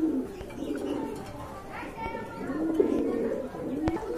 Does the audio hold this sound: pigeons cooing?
yes